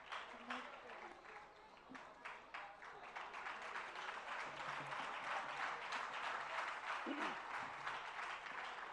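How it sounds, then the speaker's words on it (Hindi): A seated audience at a religious discourse session in Agra breaks into dense, sustained applause that holds steady and builds slightly over nine seconds, heard at a distance. "जोरदार तालियां सभी के लिए।"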